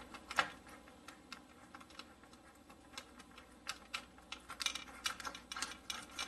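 Small drill bit working a pilot hole into the plastic of a Hasegawa Maschinen Krieger Falke model kit, heard as close, quiet scratchy clicks and ticks in an irregular stream.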